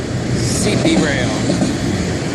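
Freight train cars rolling past at close range, ending with the last car going by, a steady loud rumble with faint rhythmic wheel clatter and a possible voice under it.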